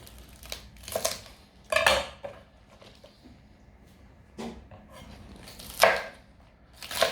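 A knife roughly chopping washed spring onions on a board, with close, loud bursts of rapid crisp cuts separated by brief pauses.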